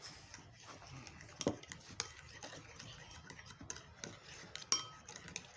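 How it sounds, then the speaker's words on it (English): Burger sauce with mustard being stirred in a bowl, a spoon scraping and clinking against the sides in irregular soft strokes, close and quiet, with no talking. "Mix it all together."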